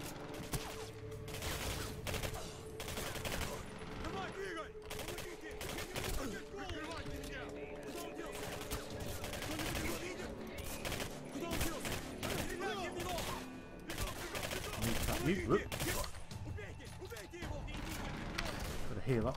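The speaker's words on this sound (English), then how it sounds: "I shot you twice in the bonnet." Dense, continuous gunfire from the first-person shooter Singularity, rapid shots layered over game noise and effects for the whole stretch, with someone talking over it.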